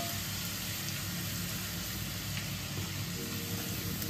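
Vegetables frying for a veg Manchurian, a dense, steady sizzle in a hot pan, loud and close, with no talk over it.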